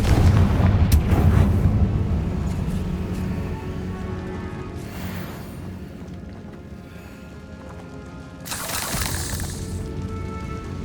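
Confringo blasting-spell explosions in the Hogwarts Legacy video game, a loud burst of booming blasts at the start followed by fainter rumbling and a second sharp blast near the end, with no talking.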